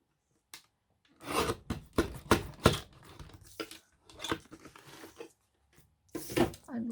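Scissors snipping through fabric while trimming a cloth pocket for a junk journal page, with several close, brisk cutting and rustling bursts in irregular rhythm, mixed with a person talking.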